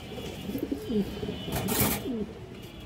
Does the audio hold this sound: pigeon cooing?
yes